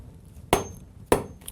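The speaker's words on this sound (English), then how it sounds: "then I hammer them the rest of the way down" Two sharp hammer strikes, about half a second apart, drive brass nails into the leather sole of an Allen Edmonds shoe during restoration, close and loud against a quiet room.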